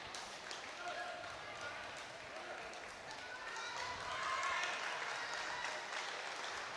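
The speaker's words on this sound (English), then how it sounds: "Conor Ryan leads to an appreciative applause from the Star travelling support" Steady applause from an arena crowd at an under-18 men's basketball semi-final, sustained and moderately loud, with a general murmur and faint court noises mixed in.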